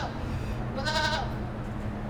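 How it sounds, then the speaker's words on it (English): Goats bleat once in a short, wavering cry, close by over steady outdoor background noise with no talk. "We got goats."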